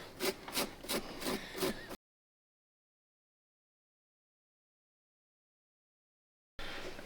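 Scotch pad scrubbing a riding mower battery terminal, heard as a quick run of about five rhythmic rasping strokes over two seconds, then silence, with a little more scrubbing at the very end.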